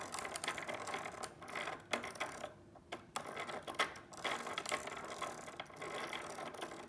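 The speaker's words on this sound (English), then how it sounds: "the pawls either lock into the ratchet and push the bevel gears, or they slip over the edges" A 3D-printed ratchet-and-pawl device with bevel gears turns, giving quiet clicking and rattling as the plastic pawls catch and slip over the teeth in uneven bursts with brief pauses, close by and faint.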